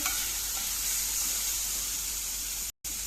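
Onion slices frying in oil in a pan, a steady close sizzle and hiss with no voices, broken by a brief dropout near the end.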